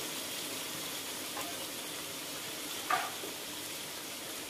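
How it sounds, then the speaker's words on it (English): Onion fries in hot oil, giving a faint, steady sizzle with a small crackle or clink partway through. "I'm going to put onion, yeah? Big, big onion."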